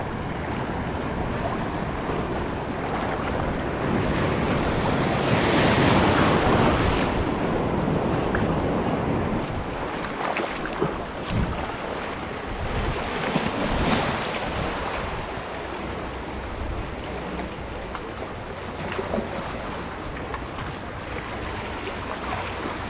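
Rough ocean waves and strong wind at a coastal fishing spot, a continuous loud wash of surf with heavy buffeting wind noise on the microphone, swelling and easing throughout.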